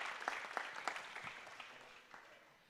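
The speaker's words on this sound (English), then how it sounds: "a big round of applause for the Minister of Agriculture and Rural Development of Colombia" Scattered applause from a conference audience honouring Colombia's Minister of Agriculture and Rural Development, a few distinct claps at first thinning into a faint, fading patter.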